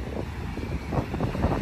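Strong wind buffeting the microphone on a beach, a heavy low roar with irregular gusting thumps that builds slightly toward the end.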